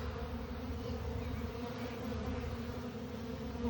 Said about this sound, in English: when they're swarming like this, they're really just looking for a place to hang out